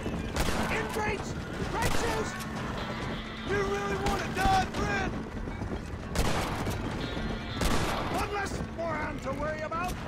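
Gunfire rings out in a video game set in a Western-style world, with rapid bursts of shots scattered across the clip and a speaker talking over the shooting.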